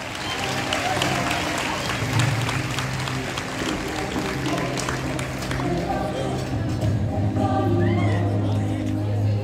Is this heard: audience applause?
yes